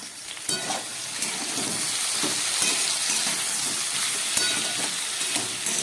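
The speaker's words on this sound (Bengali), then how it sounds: "এবার এই সবজি কটিকে 4-5 মিনিট মতো আমি ভালো করে ভেজে নেব।" Green banana and other vegetables frying in a pan for a Bengali labra, a steady close sizzle with occasional stirring scrapes and no talk.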